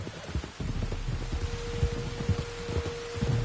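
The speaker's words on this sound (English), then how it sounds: "You were right about the damn rain." Rain falls steadily in Red Dead Redemption 2, a soft continuous hiss with scattered low thumps of drops, moderately quiet and uninterrupted by voices.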